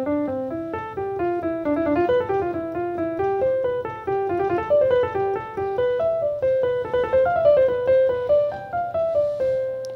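Fast runs of repeated, closely spaced notes played on a MIDI controller, a clear pitched tone moving up and down in quick rhythmic patterns for the whole stretch, with no talking.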